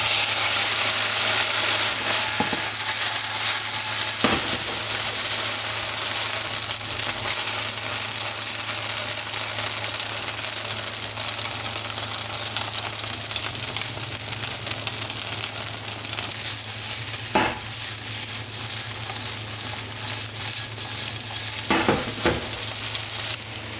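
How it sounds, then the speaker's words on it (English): Gnocchi fry in a pan with a steady, loud sizzle throughout, broken by a few sharp clacks of tossing or stirring. "go ahead and grab yourself a pan and throw your gnocchi in"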